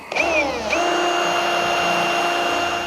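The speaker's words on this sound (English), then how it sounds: "So I'll get these spot welds drilled out and we'll get it repaired" An electric drill bores out spot welds on a rusty car body under repair, its blunt bit producing a loud, close, steady high whine that rises in pitch at the start and then holds constant.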